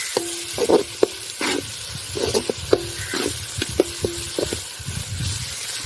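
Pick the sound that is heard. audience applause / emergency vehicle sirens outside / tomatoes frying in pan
tomatoes frying in pan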